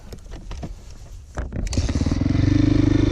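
A 1999 Yamaha YZ400F dirt bike is hot started: some clattering kick attempts, then the four-stroke engine catches and settles into a loud, steady, rapidly pulsing idle close by.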